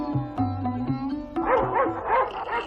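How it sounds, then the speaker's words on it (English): Dogs in a dramatized audiobook scene set during a stag hunt give a run of close yelping barks and whimpering cries, several overlapping yelps that build in intensity toward the end. "he was overwhelmed by the yelping of dogs"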